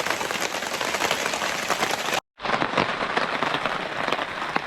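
Rain patters steadily and densely on a tarp shelter at a campsite in the Ozark National Forest, a close, continuous hiss of drops broken by one brief silent gap midway.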